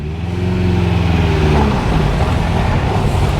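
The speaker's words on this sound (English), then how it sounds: "I just forget how much I love the sound of that B series engine" An MGB GT's B-series engine runs loudly up close in a car park, a steady low rumble that rises slightly as it revs, with no talking.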